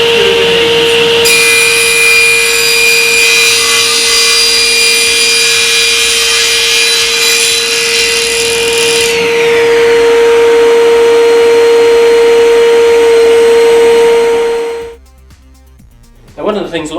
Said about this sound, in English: We can start the saw, switch on the extraction because we're using MDF